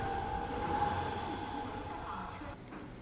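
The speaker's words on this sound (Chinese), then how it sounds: "首趟动车驶入游西火车站" A CRH bullet train, the first high-speed service, pulls into Youxi railway station with a steady, broad rumble and hiss that holds throughout, easing slightly near the end.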